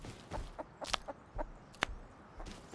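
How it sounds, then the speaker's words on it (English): Chicken clucking in a video game, a few short clucks and one sharper squawk scattered over about three seconds, fairly close and clear with no talk over them. "Oh, I hear a chicken."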